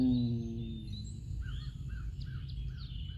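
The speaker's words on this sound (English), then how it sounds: "right now I'm sitting outside, so you're gonna hear the sound of nature, the birds, the animals" Several birds chirp and sing outdoors in a quiet natural setting. Their high, brief calls repeat intermittently over a steady low background rumble.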